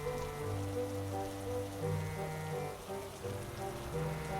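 Steady rain pattering on a surface, a soft continuous patter beneath a sustained tonal music bed, with no voices.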